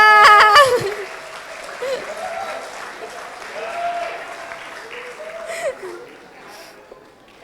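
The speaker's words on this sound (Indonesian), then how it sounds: "Tepuk tangan buat Pak Dwi Pak." Applause from a seated audience at a university communication studies orientation event, loud at first, then fading into a scattered, softer clatter of clapping with some voices in the room.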